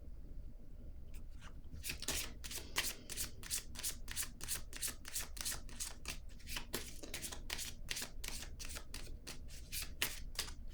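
Tarot cards riffled and shuffled in quick repeated bursts, a close, crisp papery flutter that runs steadily without pause, with no voices over it.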